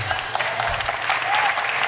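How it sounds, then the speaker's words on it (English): Applause from a panel audience at a tech inclusion conference session on coding bootcamps, a brief dense burst of clapping from a crowd at steady volume. "Round of applause."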